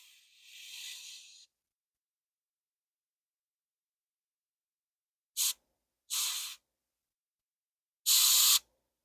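Spray bottle misting over hair highlights: a longer hiss, then three short, sharp puffs separated by silence, close and crisp.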